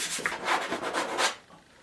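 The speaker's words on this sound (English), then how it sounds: "So you can hear how rough this board is." An acrylic paintbrush scrapes over a rough painting board while winter trees are roughed in, giving a few soft, dry rubbing strokes in quick succession, close and fairly quiet, then fading out.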